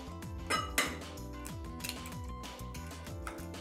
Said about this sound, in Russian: Сейчас нам нужно с вами взбить 2 яйца.